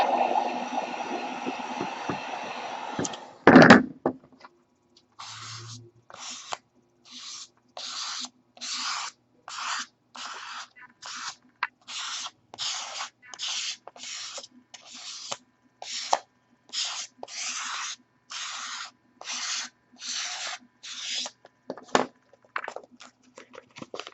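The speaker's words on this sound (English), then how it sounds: "Gonna heat it and squeegee it down this time." A few seconds of airy heat gun blowing warm auto vinyl on foam armor, then a close series of about twenty quick, even squeegee strokes rasping the vinyl down in a steady rhythm.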